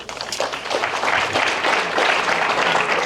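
An audience at a high school athletic banquet gives the tennis team a round of applause, a dense, steady burst of many hands clapping that fills the room for a few seconds.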